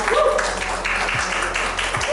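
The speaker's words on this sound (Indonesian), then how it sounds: "Tepuk tangan untuk kita semua." A room of teachers at a vocational school gathering applauds together, a steady wash of clapping that fills the space at moderate loudness with no speech over it.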